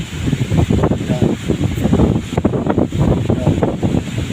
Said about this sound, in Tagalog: Malakas yung hangin dito, madali lang.